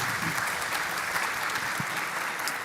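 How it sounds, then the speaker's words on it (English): Steady, full applause from a hackathon closing-ceremony crowd washes over the hall at an even level throughout, with a faint murmur of voices beneath. "Please give him a big round of applause."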